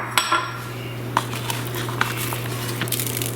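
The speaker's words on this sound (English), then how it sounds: "that's the side I'm about to put down, face down on my cast iron skillet" Seasoned steak laid into a cast iron skillet, heard as a few metal clinks and knocks of utensils against the pan over a steady low hum, with no voices.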